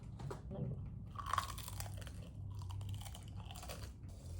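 Crunchy snack food being bitten and chewed at an end-of-year meal in Korea, with soft close crunches and mouth sounds under a low background hum and a quiet voice.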